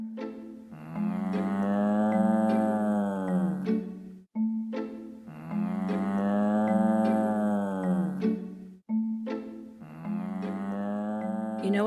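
Dairy cows mooing, three long, loud, drawn-out moos in succession, each rising and falling in pitch, close by with short pauses between them.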